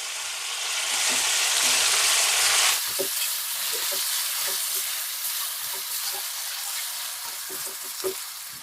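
Boneless chicken and onion frying in a pan for a dhaba-style chicken masala, starting with a loud, bright sizzle that drops a little in intensity, then continuing as steady frying with repeated spatula scrapes and taps.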